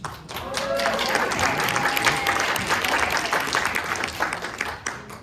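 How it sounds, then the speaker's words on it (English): A crowd at a town hall meeting breaks into sustained applause, a broad, steady clatter of many clapping hands with a voice briefly audible over it. "Well-deserved applause."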